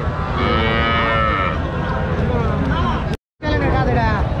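Cattle moo loudly and repeatedly at a calf and cow market in Joypurhat, with a crowd of people talking underneath throughout.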